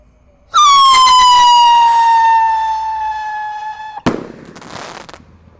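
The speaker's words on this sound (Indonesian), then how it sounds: "yang kita nyalakan di sini ada roket Piro Roketan Roman Candle yang warna merah ya" A red Piro Roketan Roman Candle firework launches with a loud rising whistle that holds for several seconds and slowly fades, then ends in a sharp crack and a brief crackling burst.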